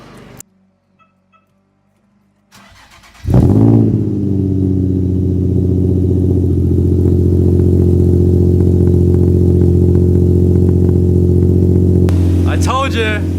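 Straight-piped Nissan 350Z engine cranks and fires up after a few quiet clicks, settling into a loud, raspy, rumbling idle held steadily for several seconds before a brief blip at the end.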